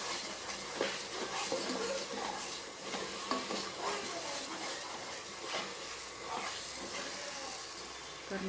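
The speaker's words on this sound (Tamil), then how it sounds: "இந்த ஸ்டேஜ் நல்லா கை எடுக்காமல் கிளறணும்." A spoon scraping and stirring a thick milk cake mixture with ghee in a hot pan, quiet repeated scrapes over a soft sizzle, close and continuous.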